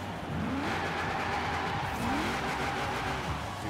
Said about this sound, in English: Yep, sounds like a V8.